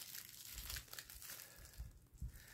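A small shopping-haul package being unwrapped, with close, quiet crinkling and rustling of plastic wrap and occasional soft tears, heard alone.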